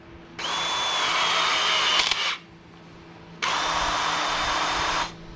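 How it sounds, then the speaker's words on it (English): A Ryobi battery-powered crimp tool pressing a crimp ring onto a PEX pipe fitting runs in two loud, close, motorized bursts of about two seconds each, separated by a short pause. "take this Ryobi and you want to put it right over and just hold down the button"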